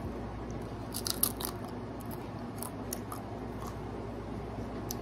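Crunchy dehydrated zucchini chips with a spicy seasoning are chewed up close, giving a series of crisp, brittle crunches clustered early and then spaced out over a steady background hiss.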